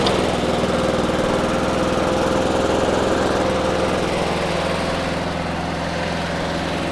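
A gasoline lawn mower engine runs steadily after starting, a loud, close, continuous buzzing drone with a constant pitch and no voices over it.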